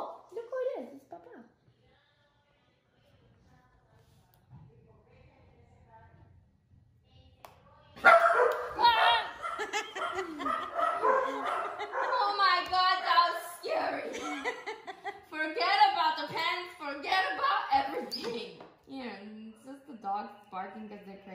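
Several dogs bark and yip excitedly at close range, bursts of barking running almost continuously through the latter part, mixed with people talking and laughing at a workplace where a pet monkey is also present.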